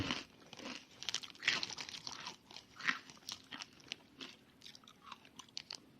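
Close, crisp crunching and chewing of crunchy breakfast food, irregular bites and munching with small crackles over several seconds, no speech.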